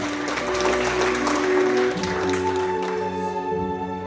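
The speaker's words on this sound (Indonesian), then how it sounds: "Tepuk tangan sekali buat kita sama-sama." Audience applause during a corporate motivational training session for employees, dense and sustained clapping filling the whole stretch at steady loudness, with musical tones ringing underneath.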